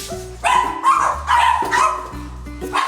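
A dog barks repeatedly at close range, sharp yelping barks coming in quick bursts with short gaps between them.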